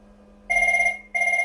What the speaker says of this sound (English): I hope you could see the digital phone ringing.